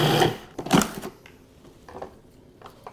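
Food processor pulsing a no-bake protein bite mixture of peanut butter, honey and vanilla, giving a loud first burst of whirring and chopping, then softer uneven knocks and rattles as the blade slows.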